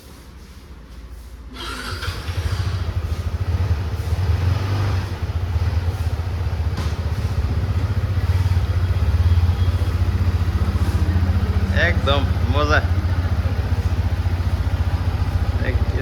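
A new motorcycle's engine idles steadily with a low, constant rumble throughout, while people talk briefly over it.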